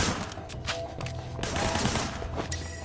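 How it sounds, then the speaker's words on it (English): Gunfire in the open-world crime game Sleeping Dogs, with a dense rattle of rapid shots layered over thuds and street ambience, fairly loud and continuous through the short stretch. "There was a shooter, firing shots from the passenger window."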